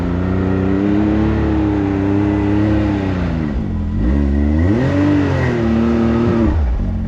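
A Can-Am Maverick X3 Turbo side-by-side on a motocross track revs hard and steadily, its loud, close engine note rising, dipping briefly, then climbing again with no voices heard.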